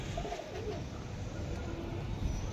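Pigeons of a fancy show breed cooing close by, low soft coos over a steady background hum, with no talking.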